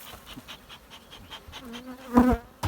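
Honey bees buzz close by as an Antalya beehive, fed on pine honey, is opened for autumn inspection. The droning hum flickers and swells, with a louder surge near the end.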